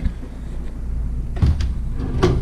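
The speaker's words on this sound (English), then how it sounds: "Some drawers here, all of which are empty." Hotel room drawers slide open in two short wooden knocks and scrapes over a steady room hum, close by with no talking.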